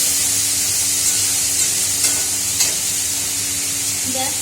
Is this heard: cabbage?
yes